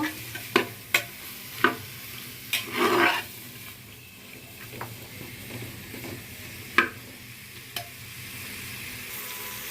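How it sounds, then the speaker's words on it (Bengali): Vegetables for khichuri being sautéed in a pan: a steady low sizzle with scattered sharp scrapes and clacks of a spoon stirring, loudest early on, with no talking. "সবজিগুলোকে আমি ভালো করে কষিয়ে নেব"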